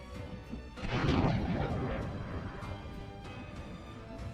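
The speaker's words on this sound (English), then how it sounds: "video circulated online depicting the Ukrainian HIMARS firing rockets at night" Ukrainian HIMARS rocket launcher firing at night near Donbas, a distant rumbling roar that swells and then slowly fades, with a few faint sharp cracks against a noisy background.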